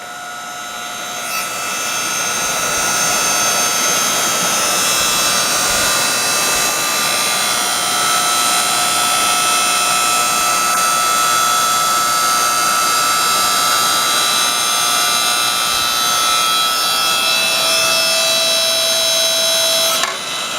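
A BOSS 7-ton electric log splitter runs with a loud, steady electric motor whine and hum that holds for about twenty seconds, close and alone, ending with a brief click.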